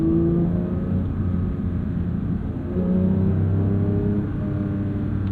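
Porsche 992 911 GT3 with manual gearbox, its engine droning and rising in pitch under throttle from inside the cabin while driving, with steady road rumble beneath.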